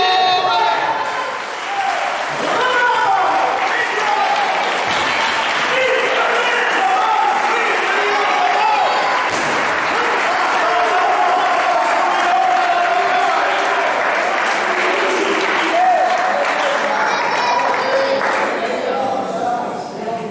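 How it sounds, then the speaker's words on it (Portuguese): Congregation applauding during a church sermon, a dense, sustained wash of clapping from a crowd that stays loud and steady throughout, with voices mixed in. "Pode aplaudir"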